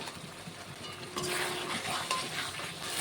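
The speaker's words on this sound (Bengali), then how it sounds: "মশলাটাকে সুন্দর করে কষিয়ে রান্না করে নেব।" Spice masala with tomatoes sautéing in a pan for a mutton dish: a close, steady sizzle swells louder partway through, with faint scraping from the spoon.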